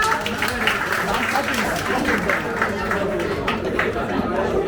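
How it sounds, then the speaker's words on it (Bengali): An audience at a film and photography club seminar applauds a team called Creative Films, giving dense clapping mixed with crowd chatter and voices, steady and fairly loud throughout. "তাদের জন্য একটা হাততালি হবে না?"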